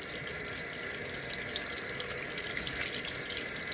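Steady hiss of running tap water as glasses are rinsed under a faucet at a sink, continuous and fairly close for the whole stretch, with no voices.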